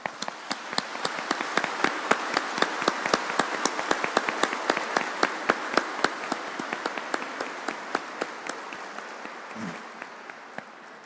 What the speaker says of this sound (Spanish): a la cual aplaudamos con fuerza